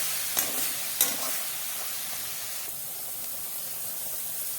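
Fish curry with small mourala fish and cholom leaves being stirred in a pan, a soft steady sizzle with a couple of sharp clinks of the utensil early on, fairly quiet and close.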